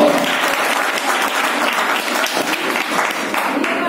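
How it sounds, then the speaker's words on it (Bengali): An audience at a coaching centre's Rabindra Jayanti school event claps loudly and continuously for several seconds after a student's recitation, a dense, close patter that holds steady throughout. "একবার জোরে হাততালি ময়ূক ভাইয়ের জন্য"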